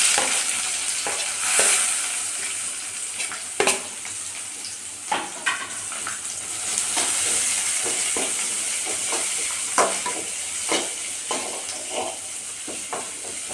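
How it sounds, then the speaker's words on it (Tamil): Curry leaves, crushed garlic and onion sauté in hot oil for a ridge gourd kootu, giving a steady close sizzle broken by repeated scraping stir strokes, with no voices. "நல்லா பொரிஞ்சு வந்ததுக்கப்புறமா கருவேப்பிலை, தட்டி வச்ச பூண்டு கொஞ்சம் நல்லா வதங்கினதுக்கப்புறமா வெங்காயம்"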